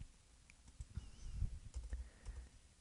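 Soft keyboard keys tap in a quick, irregular patter, quiet and close, with no voices.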